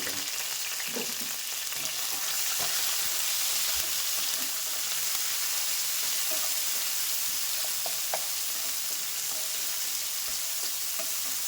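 Onions, green chillies and curry leaves fry in a pan with a dense, even hiss of hot oil. Faint clicks and light stirring sound under it, and no one speaks.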